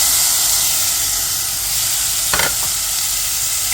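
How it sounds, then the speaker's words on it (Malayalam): Chopped tomatoes hit golden fried onions in hot oil, raising a loud continuous sizzling hiss, with a brief burst of scraping and spattering near the middle. "സവാള ഗോൾഡൻ കളർ ആയിട്ടുണ്ട്. ഇതിൻ്റെ അകത്ത് നമ്മളിത് അരിഞ്ഞു വെച്ച 2 തക്കാളി"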